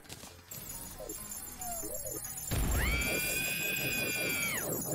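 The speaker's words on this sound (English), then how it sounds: "It screamed very loudly." A Terraria Calamity boss lets out a loud, shrill, sustained screech, rising sharply midway and holding steady over a dense, throbbing game soundscape.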